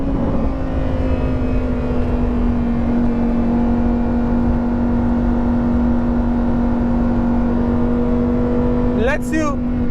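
Lamborghini Huracan STO engine on the Sepang race track, a steady, loud droning tone held at constant intensity, with a short high chirp near the end.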